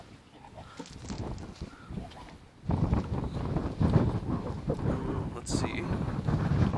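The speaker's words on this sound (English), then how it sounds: "so it gets the least amount of wind, it still just kicks up so hard around here." Strong wind gusting around the back side of a house, buffeting the microphone with a rough low roar that surges louder halfway through, while a person talks briefly.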